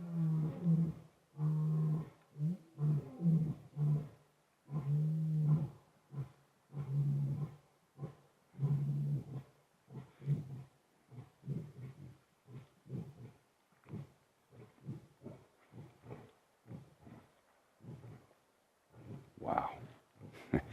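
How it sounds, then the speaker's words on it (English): Male lions roar on a live safari, a long sequence of deep, rhythmic grunting roars that swell and then taper into shorter grunts, distant and steady, with a voice briefly heard near the end. "we listen to the roars of the male lions one last time"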